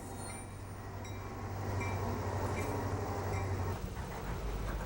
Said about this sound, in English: For safety, the train moves slowly.